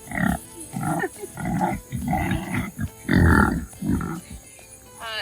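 A show pig at a livestock show day, with repeated loud grunts and snorts in uneven bursts over steady background crowd and barn noise.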